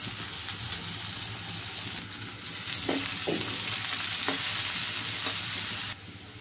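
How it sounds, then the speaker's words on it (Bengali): Onion frying in oil with cardamom, cloves and cinnamon gives a steady, close sizzle with a few brief scraping stirs partway through. The sizzle drops slightly near the end. "পেঁয়াজটা ভেজে নেব, তারপর মশলা দেব।"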